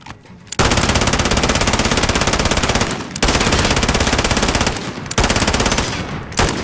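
A light machine gun fires in Call of Duty: Modern Warfare in three long, loud sustained bursts of rapid automatic fire, each cut by a short pause.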